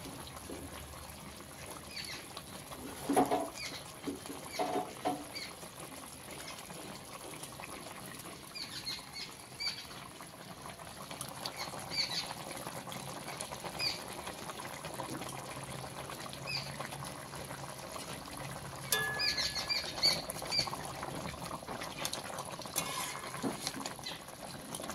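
Pabda fish going into a simmering mustard and poppy seed curry, with soft bubbling, spattering pops and the scrape and stir of a utensil in the pan, the pops sharper and louder in places.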